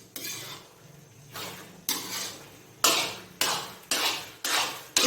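A spoon stirs carrot halwa with khoya in a pan, giving repeated scraping strokes roughly every half second to second, each a sharp start that fades, close and clear with no talking.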